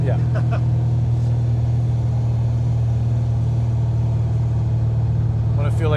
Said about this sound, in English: it would actually interfere with the sound of the engine